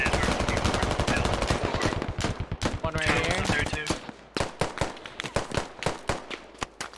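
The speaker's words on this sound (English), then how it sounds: "Oh, we're taking rounds." Heavy gunfire in the military shooter Squad: dense rapid automatic bursts up front, thinning into scattered single cracks and short volleys, with voices talking over the firefight.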